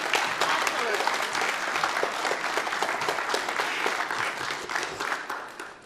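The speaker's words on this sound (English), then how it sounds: "Give a round of applause to our ISOs." Conference audience at a spring security officers' forum clapping steadily, a dense, sustained round of applause that tapers slightly toward the end.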